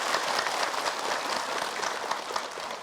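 A studio audience at a televised religious talk show in an MNC TV studio applauds in a dense, steady wash of clapping, even in loudness and heard without talk.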